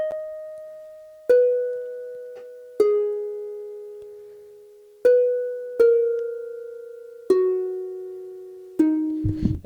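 Plucked harp notes in a Minecraft-style piece ring out one at a time at a slow, uneven pace, each one decaying gently over a soft sustained synthesizer drone, with a final cluster of notes at the end.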